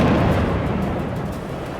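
Heavy low rumbling of explosions and gunfire during night fighting in Tubas in the West Bank, a loud continuous boom that slowly fades.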